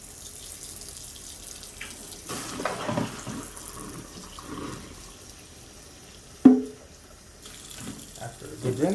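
Tap water running over cat drinking fountain parts during a rinse, a steady close splashing stream with a sharp knock partway through as a piece bumps the sink.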